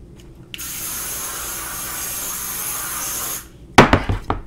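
A continuous hiss of hairspray lasts about three seconds up close, followed by a few sharp handling clicks and taps.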